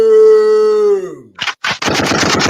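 A long howl-like tone fades out, then a burst of rapid, loud cracks follows in quick succession like gunfire.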